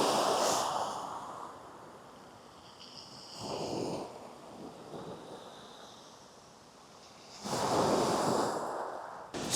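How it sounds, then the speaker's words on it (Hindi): Ocean waves break on the shore of a coastal town in Japan, rising in three broad, rushing surges that swell and fade between quieter stretches of steady surf. No one speaks. "कुछ देर यहाँ खड़े होकर लहरों की आवाज़ सुनते हैं"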